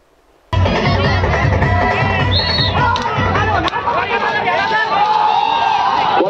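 A large crowd gathers at a state-level bullock cart race held for the first time on Champak ground in Ratnagiri, filling the air with a loud, steady hubbub of chatter and shouts; faint bird chirps rise over the babble.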